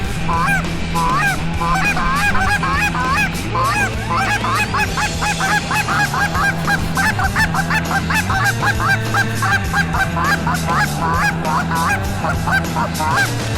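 A large flock of geese honks continuously and loudly during a hunt in Saskatchewan, many overlapping calls close by over a steady low hum.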